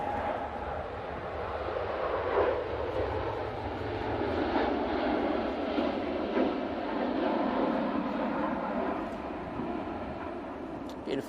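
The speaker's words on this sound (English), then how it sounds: "Beautiful flex on that Dreamliner as it departs there." A Boeing Dreamliner airliner departs Manchester Airport in stormy weather, its jet engines a steady, broad roar that holds at moderate distance, with wind noise in the background.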